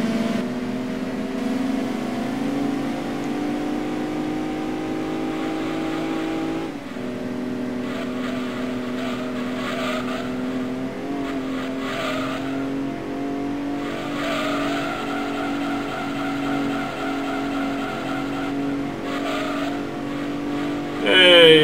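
Race car engine in Gran Turismo 2, a sustained buzzing drone that holds through a four-wheel drift, with pitch shifts as the revs change and no voice over it.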